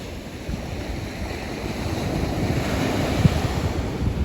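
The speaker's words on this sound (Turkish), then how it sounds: "dalgaların kıyıya vuruşuyla videoyu sonlandıralım" Sea waves break on a beach at Trabzon, producing a steady, broad wash of surf under wind noise on the microphone, swelling slightly toward the end, with no talk.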